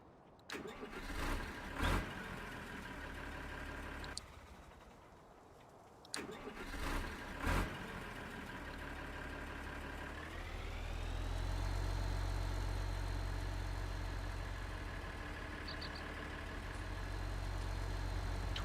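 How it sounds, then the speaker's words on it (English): Tractor engine in Farming Simulator 19 on the Alps map, with a front loader attachment, heard starting up and then idling, its steady mid-pitched rumble rising slightly in revs partway through, heard on its own. "Now, I'll shut up and let you hear the engine."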